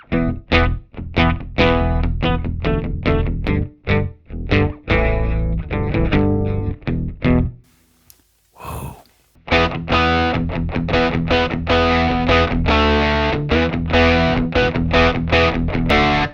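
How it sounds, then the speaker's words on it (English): A bass guitar played through a distortion pedal, loud fuzzy clipped notes in a steady rhythmic run, broken by a short gap of near silence midway before the gritty playing resumes, with no talking. "You can hear the distortion in the bass and it kind of clipping in different places, trying to decide what to do."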